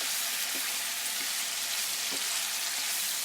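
Sliced onions fry lightly in a pan for chicken karahi, giving a soft, even, continuous sizzle with a few faint stirring knocks and no voices.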